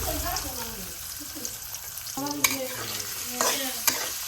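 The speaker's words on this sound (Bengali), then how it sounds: "পেঁয়াজ রসুনটা ভালোভাবে ভেজে নিই" Onion and garlic frying in hot oil in a wok, spiced for a duck curry, a loud close sizzle with scraping and clinking of a stirring spoon against the pan and faint voices in the background.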